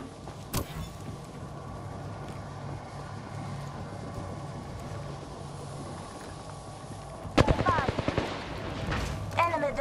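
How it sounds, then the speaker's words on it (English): Gunfire rings out in the battle royale game Apex Legends: one early sharp shot, then a quick rattling burst of rapid fire over a steady low background hum. "Listen up, I'm getting shot at."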